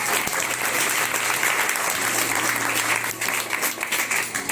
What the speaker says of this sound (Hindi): अब यीशु मसीह की जो तालियां बजा रहे हैं